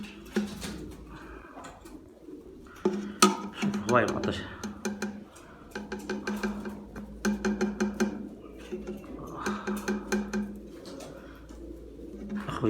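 Pigeons coo in repeated bursts nearby while someone talks over them intermittently, with some ticking handling noises in between.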